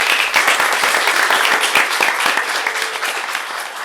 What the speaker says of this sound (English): So let's give one round of applause.